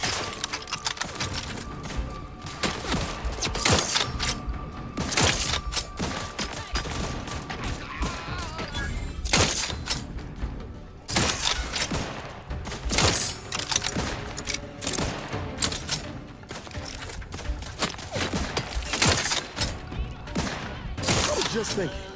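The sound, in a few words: gunfire in the video game Outer Worlds 2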